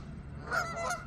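Geese honking in a short burst of loud, overlapping calls as a dog chases them, rising in the middle and fading slightly toward the end.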